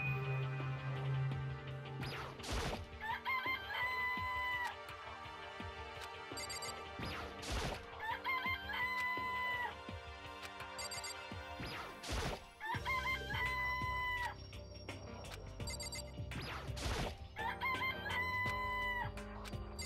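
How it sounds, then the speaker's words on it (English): Chickens cluck and a rooster crows repeatedly in the Danganronpa video game, the calls recurring in a looping pattern over game music with sharp percussive hits. "This place even has chickens, huh?"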